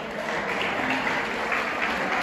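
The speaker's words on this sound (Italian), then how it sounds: "Un applauso, grazie." Audience applause at an artisanal gelato tasting event, a steady burst of clapping from a small crowd lasting a couple of seconds.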